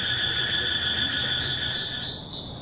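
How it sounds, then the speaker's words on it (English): Loud cicadas and crickets in a California park area, a continuous high shrill buzzing drone that stays steady and dense throughout, with no talk. "It's cicadas, crickets, birds."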